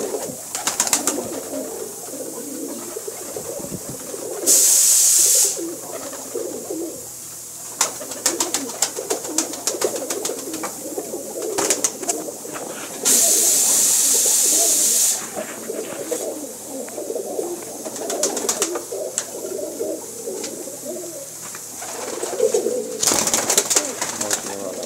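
Pigeons coo repeatedly in soft, low warbling calls, with bursts of hissing noise and scattered clicks and flutters throughout.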